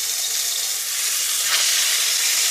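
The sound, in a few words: rabbit meat searing in ghee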